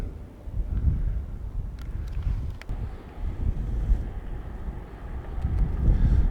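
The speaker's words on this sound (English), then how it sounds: "It is a bit windy" Gusty wind buffets the microphone beside the harbor at a seaside castle, a rumbling low roar that swells and eases without pause, with no voices over it.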